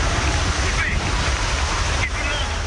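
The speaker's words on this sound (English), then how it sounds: "Water even cascades from above the tram tour in a cataclysmic finale." Water cascading from above onto the tram tour at Walt Disney Studios in Disneyland Paris. A broad, steady rushing roar fills the whole stretch at fairly loud level, with no clear breaks.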